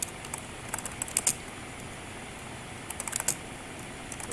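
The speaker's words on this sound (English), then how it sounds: "And you just start typing. And I come down here and I type." Quiet clicking of a computer keyboard as text is entered, in short irregular bursts of keystrokes separated by pauses, against a faint steady background hiss.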